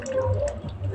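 Water draining out of a plant pot holding a frangipani cutting set in sand, a soft close trickle with faint irregular drips, steady and quiet with no voices.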